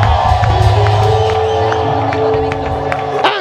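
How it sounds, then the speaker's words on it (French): A church congregation cheering and shouting in victory during a worship service, a loud crowd roar with whoops and sustained tones underneath, fading slightly toward the end. "Acclame très fort. Pousse un cri de victoire."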